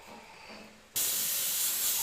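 An airbrush abruptly begins spraying paint partway through, a steady loud hiss of air and paint that holds evenly to the end, following a quieter stretch of faint room noise.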